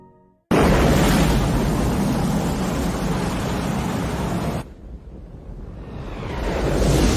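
A loud, sustained roaring blast of explosion noise fills the clip, briefly dropping off before rumbling back up toward the end.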